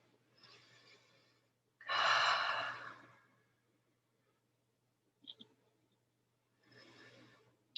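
Guided breathwork during a meditation and healing ceremony: soft audible breaths, a long deep sigh-like exhale, then a click and another quiet breath, close and intimate against a faint steady hum, with no voices.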